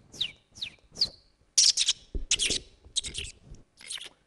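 Human voice imitating a sparrow's chirping: a string of short, close whistled chirps and tweets, at first spaced apart and then coming more quickly, with no other sound.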